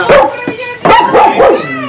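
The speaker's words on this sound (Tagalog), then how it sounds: "Hawakan niyo po yung aso." A dog barks loudly and close by, four or five sharp, throaty barks in quick succession.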